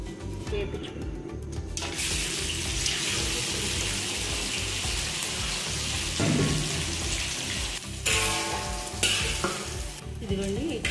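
Spices sizzle and crackle as they are stirred while roasting in a pan for a Godavari-style chicken pickle, a loud continuous frying hiss with scraping stirs and a couple of brief gaps, near and steady throughout.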